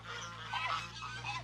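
Geese honk faintly and a little distant across a farm pasture, a few overlapping calls over a steady low hum, with no talking.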